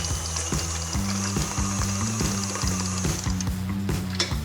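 A stand mixer beats butter into a soft, sticky cinnamon scroll dough at medium-high speed, producing a loud, steady motor whir with a regular thumping, knocking rhythm as the dough slaps around the bowl.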